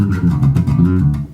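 A bass guitar plays a quick run from a bass solo, a short burst of loud, close, plucked low notes in fast succession.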